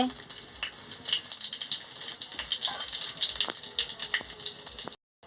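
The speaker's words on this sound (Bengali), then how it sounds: "এবার আমি 5 ফোড়ন আর শুকনো লঙ্কাটা দিয়ে দিচ্ছি।" Five-spice and dried chillies dropped into hot oil in a hot kadai, crackling and sizzling steadily with sharp pops scattered throughout, close and fairly loud, then cutting off abruptly near the end.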